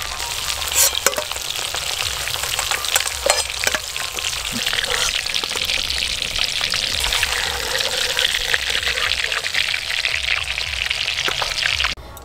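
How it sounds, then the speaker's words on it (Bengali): Local river prawns sizzle as they are lightly fried in oil. The frying hiss stays steady and fairly loud throughout, broken by frequent stirring scrapes and spatters, and ends abruptly. "এই দেখুন চিংড়ি মাছ হালকা করে ভেজে নিয়েছি।"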